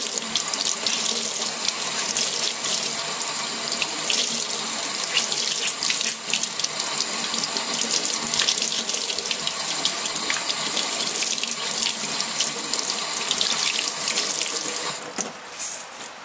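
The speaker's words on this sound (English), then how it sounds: "now I'm just going to rinse it under water" Water runs steadily from a tap while a makeup beauty blender is rinsed clean of foundation and concealer, a loud continuous splashing gush with slight changes as the sponge moves under the stream.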